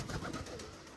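Pigeons just let out of their cage after four days inside give off a steady, close run of soft cooing and bird calls with no pauses.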